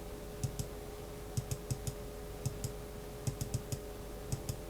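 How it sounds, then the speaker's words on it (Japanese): A cheap wireless mouse from a budget full-size keyboard-and-mouse set gives loud, hollow clicks, about fifteen of them in quick pairs and short bursts, close up with no talking. "気になるのはクリック音が安っぽくて大きめなこと。"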